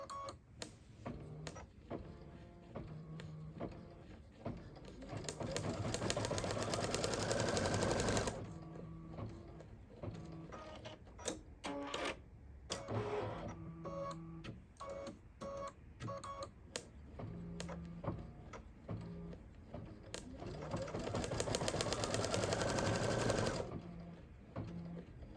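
A sewing machine runs in bursts, tacking down small spider legs, with long steady stretches of fast mechanical stitching broken by short pauses and faint clicks, close and fairly loud with no talk.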